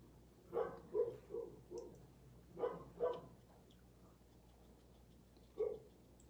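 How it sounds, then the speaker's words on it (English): Dogs barking at a neighbour in the yard, several distinct bark bursts in two short clusters and a final single bark, moderately distant over a quiet background. "Sorry, the dogs, some neighbor has the audacity to be in their yard"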